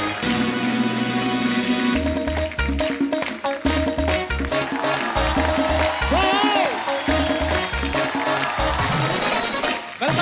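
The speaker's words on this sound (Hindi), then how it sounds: "आप सबकी जोरदार तालियों के बीच please welcome mister Vicky Kaushal और साथ में फिल्म के डायरेक्टर मिस्टर शुजीत सिक्कार।" Applause rises from the studio audience of The Kapil Sharma Show as guests Vicky Kaushal and director Shoojit Sircar are welcomed, dense clapping mixed with loud music and a steady beat.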